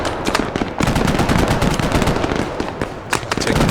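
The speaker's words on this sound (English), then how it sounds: "A gunship has arrived to assist us." Dense, loud bursts of rapid gunfire from a war video game, a supporting gunship pounding away amid continuous overlapping shots and impacts with no pauses.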